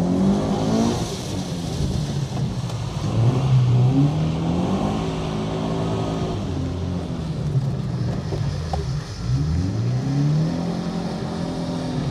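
Car drifting through a handbrake turn and figure-eight maneuvers, driving lesson with drift instructor: a continuous loud engine roar with rising and falling revs and sweeping pitch swoops, close and steady throughout.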